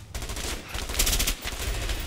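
Rapid gunfire rattles continuously in A Way Out, a dense close burst of shots lasting about two seconds with no talking.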